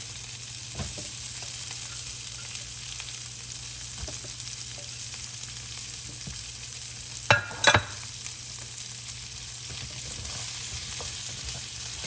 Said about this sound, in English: so now we're gonna go ahead and throw our green beans in. Make sure to keep that heat nice and high.